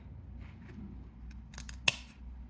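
Scissors snip dead parts off a young orchid at close range, a few faint clicks followed by one sharp, crisp cut in a quiet room.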